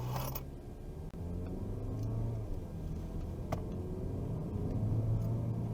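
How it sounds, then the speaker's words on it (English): A 2022 Mazda CX-30 G20 Evolve, a front-wheel-drive small SUV, accelerates hard, its engine rumbling and climbing under load from inside the cabin, steady and fairly loud with a couple of brief knocks. "Let's quickly do an acceleration test here."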